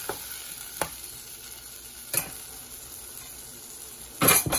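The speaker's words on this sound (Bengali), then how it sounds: "দেখো আলু ভাজা ভাজা হয়ে গেছে, এবার মশলাটা দিয়ে দিলাম।" Fried potatoes sizzle steadily in a pan after spices are added, punctuated by occasional spoon knocks and a louder burst of stirring and clinking near the end.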